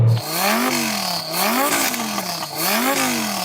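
A Lamborghini engine with a soft limiter at 4,000 RPM revs up and down again and again, loud and close, each rise cut off flat at the limiter.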